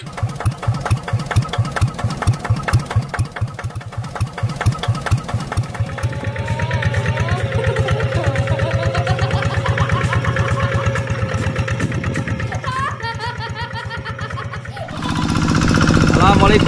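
Modified TL 800 farm tractor engine running loud and steady, with rapid knocking pulses at first, then a continuous rumble with a higher whining tone through the middle and a louder surge near the end.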